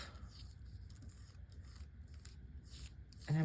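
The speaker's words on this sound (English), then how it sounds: "let's tear along where I put that" A page is torn out of a glossy magazine for a journaling craft, quiet crackling and rasping paper rips in short bursts, close and faint, ending in a brief louder sound.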